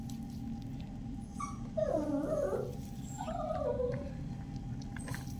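A dog whimpers in two drawn-out, whining bursts over a low background rumble, fairly close, with no one talking.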